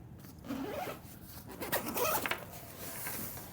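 A zipper slides open on a Peak Design 45L travel backpack's back panel, several quick rasping pulls in succession, close and fairly loud against a quiet room.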